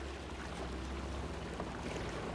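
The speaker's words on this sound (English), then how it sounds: "All right, let's call that ferry over." A river ferry arrives on the Illinois River in Farming Simulator 25, with a steady low engine drone and continuous wash of water that stays even and fairly close throughout.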